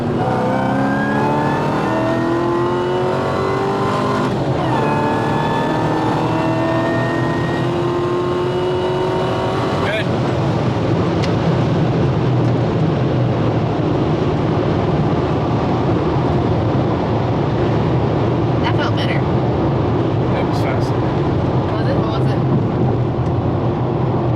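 A 5th Gen car pulls hard from 60 to 130 mph, its engine note climbing loudly through gear after gear with brief dips at the shifts, then settling into a dense roar of wind and road noise.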